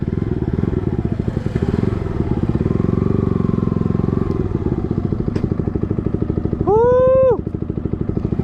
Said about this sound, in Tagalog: Sunod na ang motor.